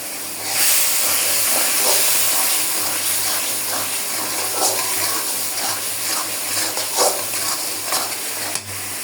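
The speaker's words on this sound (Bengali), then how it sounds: "পরিমাণ মতো একটু পানি দিয়ে দিব, মশলা না পড়ে যায়।" Steady hiss of water poured into a pot of spiced chicken curry, with soft stirring and sizzling bursts throughout, close and fairly loud.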